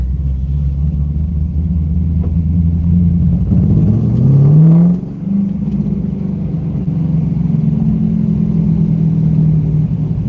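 A C5 Corvette with around 400 wheel horsepower, its V8 droning loudly and then sweeping upward in pitch as it strains under hard throttle, a steady close engine roar throughout.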